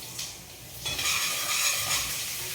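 Mustard seeds and chana dal tempering in hot oil for kara kozhukattai, a bright sizzle that swells louder after a brief quieter start, with light stirring scrapes and no speech.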